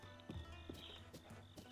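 Game horse hooves clop in Zelda Breath of the Wild, a few distinct hoofbeats over a steady musical and ambient backdrop, moderately close with no talk.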